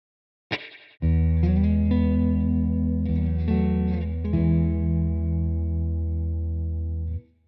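Electric guitar through an amp simulator with a Fender-style cab and reverb, a struck chord ringing out followed by sustained notes and a few changes, close and clean, tails cut off at the end.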